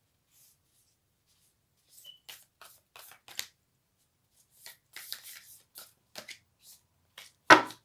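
Stiff tarot cards being shuffled by hand in short irregular riffles and taps after a quiet start, ending in a louder snapping burst as the deck is squared.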